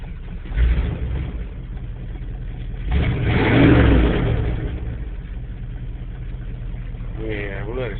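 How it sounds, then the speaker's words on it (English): A Chevy K10 pickup with a 400 engine idles outdoors with a steady, low rumble, rising briefly in a louder swell midway before settling back to an even idle, with a voice in the background. "we'll let her sit here and idle for a little bit"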